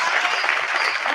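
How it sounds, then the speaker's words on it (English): An audience gives steady, loud applause, many hands clapping together in a dense, even wash with a light murmur of voices underneath. "give her a big round of applause"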